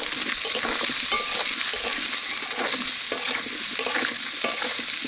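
Potatoes sautéed with salt and turmeric sizzle steadily in a pan while a spoon stirs them in repeated scraping strokes, close and continuous, with no voices.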